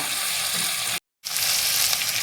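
Curry ingredients sauté over a low flame, giving a steady, close sizzle and fry with a brief silent break partway through.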